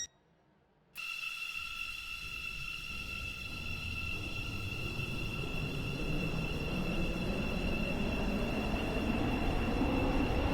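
A Stepford Connect train from a video game runs after a second of silence, a steady motor hum with a high electric whine layered over low rumbling that gradually grows louder.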